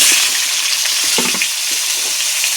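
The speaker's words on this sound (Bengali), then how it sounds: "এখন আলুগুলো ভাজা করে নেব," Potatoes frying in hot oil in a pan for a Bengali egg and paneer dish: a steady, loud, close hiss of sizzling with brief stirring scrapes and no voices.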